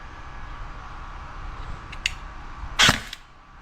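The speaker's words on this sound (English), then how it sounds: "I want to give it a few shots on my chronograph here" A Bolt DDM4 airsoft rifle fires one shot over a chronograph, a single sharp snap near the end of the clip, close and loud against a quiet room.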